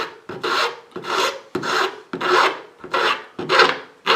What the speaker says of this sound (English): And that's my filing again.